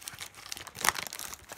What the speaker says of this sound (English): I don't have scissors, so I'm just gonna rip this open really quick